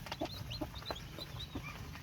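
Farm chickens clucking close by, a rhythmic series of short clucks over a soft background hum with no talk.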